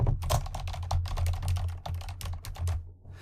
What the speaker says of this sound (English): I started typing into the new thread box.